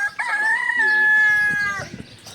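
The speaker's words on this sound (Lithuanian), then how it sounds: "vištą su gaidžiu" A feral rooster crows once nearby on São Miguel in the Azores, a long, loud, wavering call with softer clucks around it and a voice faintly behind.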